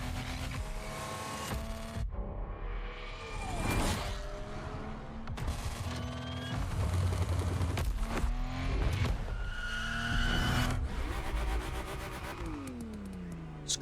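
A BMW car in the racing game Motorfest revs hard through rising and falling gear changes, with the engine droning steadily at close range and brief squeals and mechanical rattles mixed in across the whole run.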